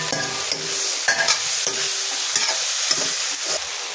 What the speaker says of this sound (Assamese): ইয়াতে মই এতিয়া কুটি ৰখা জাতিলাও আলুখিনি দি দিম